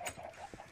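A Minecraft chicken clucking in a short run of soft, close, low-level clucks, with no talk.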